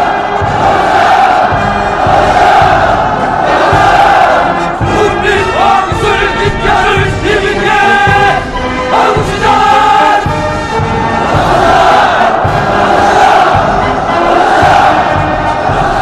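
A massive crowd roars and chants battle cries in unison at a mass rally in Pyongyang, loud and sustained, with rhythmic surges of shouting throughout.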